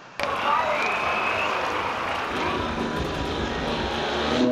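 A motorcycle engine strains on a difficult uphill climb. It gives a loud, continuous, rough drone after a sudden start, with faint voices in the background.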